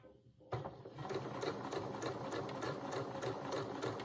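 A domestic sewing machine runs a long 5 mm stitch along a dress seam, starting abruptly after a brief quiet moment, then humming and clattering steadily and close by with no pause.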